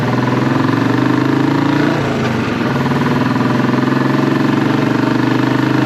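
A Royal Enfield-style classic 500 single idles loudly through a Hitchcock's Goldstar exhaust, a steady thumping burble close to the microphone with a slight dip in revs midway.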